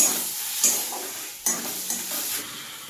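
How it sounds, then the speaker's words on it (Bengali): Shrimp fry lightly in a kadai with scraping stirs and a couple of sharp clinks, frying noise rising and falling close by. "চিংড়ি মাছটা আমি এখানে হালকা করে ভাজছি"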